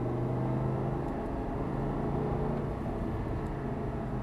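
An Audi R8 V10 drives on a race circuit, its engine giving a steady, loud, continuous droning rumble heard from inside the car, with no talking.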